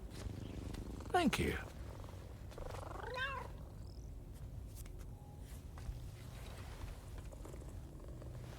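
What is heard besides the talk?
cat purring in Death Stranding 2 video game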